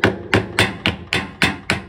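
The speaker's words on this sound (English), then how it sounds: "If it doesn't move easily, tap it lightly, but very carefully to avoid damage." On a Bosch Maxx 7 Series washing machine, a threaded drum rod is tapped to drive its nut inward. Seven sharp metallic taps ring out close and loud at a steady rhythm, each with a brief ring, and no one speaks.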